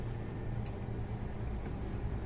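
A truck, hauling liquid fertilizer, drives along a winding rural road past private houses and villages, its steady low engine rumble and road noise continuous and close throughout, with no talk.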